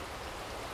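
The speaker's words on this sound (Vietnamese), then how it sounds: "Mà đang mưa nghe, chứ nãy giờ chưa tạnh mưa luôn á." Steady rain falling during a storm at a rural home, a dense continuous hiss of drops with no pauses, close and fairly loud.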